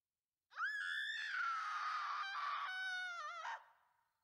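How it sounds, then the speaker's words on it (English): A single loud, sustained scream rises and wavers for about three seconds in a dark romance Genshin Impact fanfic reading, then drops away into silence. "Ganyu's screams and heavy breathing awoke Keqing from her sleep"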